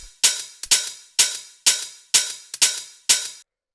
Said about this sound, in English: this very full and fat sounding hi-hat